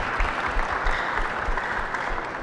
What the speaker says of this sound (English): Please, a round of applause for our panelists.